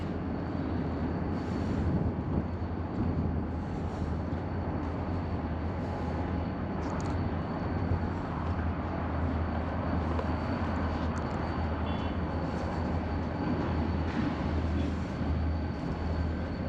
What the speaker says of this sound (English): Well, there we have another train.